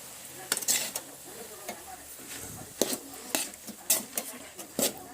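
Cooked rice being stirred in a pot, close intermittent scrapes and metallic clinks of a spoon against the vessel with a faint sizzle underneath, no voices.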